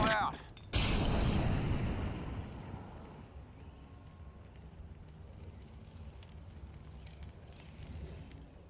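A Molotov cocktail in Counter-Strike 2 smashes with a sharp burst, then a loud, roaring fire burns steadily and slowly fades over several seconds.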